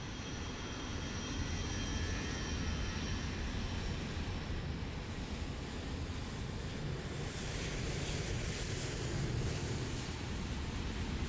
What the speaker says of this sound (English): Hold on, because this is a big ass plane.